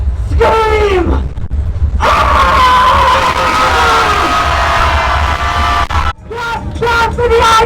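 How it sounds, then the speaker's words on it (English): A protest crowd screams and yells loudly and continuously, a dense roar of many voices with sharp individual shrieks rising above it, briefly dipping before surging again near the end. "I want to hear you scream!"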